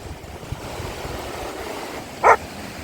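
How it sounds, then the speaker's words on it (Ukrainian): Dog on a pebbly Odesa beach at Arkadia gives a single short bark, wanting a ball thrown, over steady surf and wind noise. "вже гавкає, щоб їй кидали м'яч"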